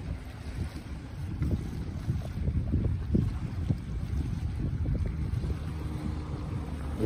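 Boats sit on the water close by along the coast road to Datça, Turkey, heard as a continuous low rumble of wind and lapping water with faint, irregular knocks.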